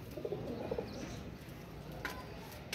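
Pigeons on a rooftop loft give a few soft, low coos in the first second, close by, followed by faint chirps and a brief flutter over steady background hiss.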